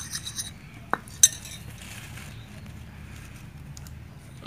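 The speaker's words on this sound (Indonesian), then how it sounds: "Kita campur root up, kemudian diaduk supaya menjadi" A utensil stirs Roundup herbicide and a little water into a paste, giving soft scraping with a few sharp clinks against the container, quiet and close amid light background noise.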